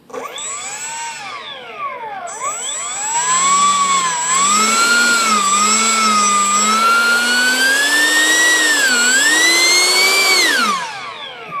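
An electric ducted fan on a Tian Sheng RC Airbus A380 model spins up with a rising whine, holds a steady loud high-pitched howl that wavers slightly in pitch, then winds down. No one speaks.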